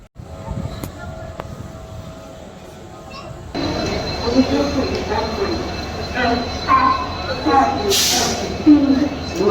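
Station ambience at Guwahati railway station: a low rumble and clatter of trains builds midway and stays steady, with brief high squeals, a bright burst near the end, and people talking nearby.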